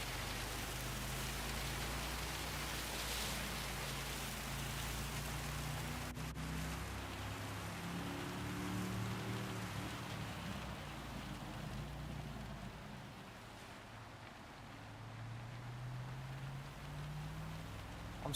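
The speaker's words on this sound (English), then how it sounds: "Really heavy rain now." Heavy rain pours steadily in the racing game Gran Turismo 7, a constant loud hiss under the low drone of a car engine that shifts pitch with gear changes throughout.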